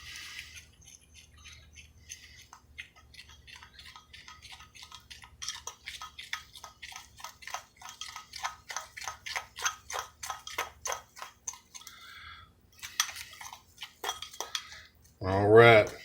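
Blueberry muffin batter with melted butter stirred in a bowl, a quick run of rhythmic tapping and clinking strokes that build in the middle, with a short muffled voice near the end.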